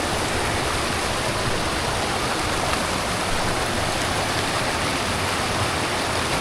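A mountain river in Kashmir rushes past in a steady, loud broadband roar, continuous and close, with no voices over it.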